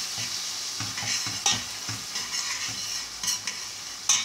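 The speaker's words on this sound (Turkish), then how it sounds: "Son olarak bu şekil güzel güzel kızartacağız." Cauliflower and tomato fry in a pan, giving a continuous hissing sizzle. A utensil stirs them with repeated soft scraping knocks and occasional sharper clicks.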